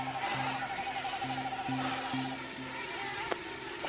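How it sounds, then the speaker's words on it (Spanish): A swarm of mosquitoes drones steadily at night in the wild, a continuous pulsing buzz that seems to surround the listener, with one brief sharp tick near the end. "Era como un zumbido fuerte que duró toda la noche y que parecía venir de todas partes"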